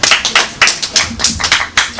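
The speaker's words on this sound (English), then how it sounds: "Clap for yourself." A church congregation claps together during a Sunday sermon, a quick series of sharp, close handclaps in an uneven rhythm, loud and with no talk over them.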